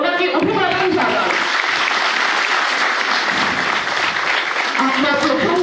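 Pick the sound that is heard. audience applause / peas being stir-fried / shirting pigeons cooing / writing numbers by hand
audience applause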